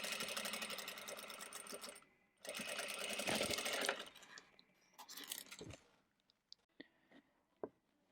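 A sewing machine stitches a fabric cosmetic bag in two close, steady runs separated by a short pause, then slows into scattered clicks and light handling noises as the sewing stops.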